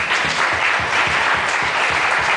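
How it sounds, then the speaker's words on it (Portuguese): An evangelical church congregation claps together in a loud, fast, rhythmic burst, close and continuous throughout with no voices on top. "Aplauda o Senhor Jesus"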